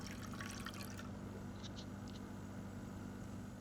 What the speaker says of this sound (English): Have a drink of water.